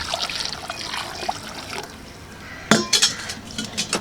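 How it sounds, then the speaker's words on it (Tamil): Hot water splashes and trickles over goat intestines in a pot, wet pouring with clinks of metal vessels, close and moderately loud, with no talking. "இந்த சுடு தண்ணியை இதில் ஊற்றிடுவோம்."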